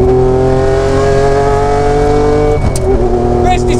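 A Lancia Stratos HF rally car from the 1970s, heard from on board, with a loud, steady engine drone at constant pitch. Near the end a brief shift comes as if changing gear or revs.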